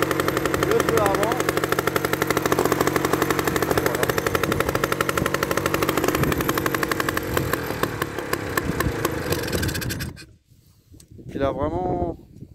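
A 1959 Solex 1400 moped engine runs steadily with a loud, buzzing two-stroke putter close by, then cuts off abruptly near the end before a voice speaks.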